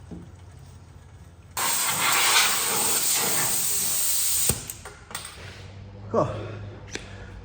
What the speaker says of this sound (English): brake cleaner is my very good friend when it comes to cleaning up oil